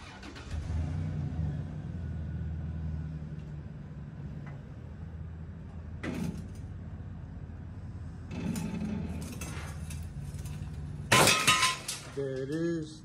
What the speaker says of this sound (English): There it is, trailer's off the jack stands.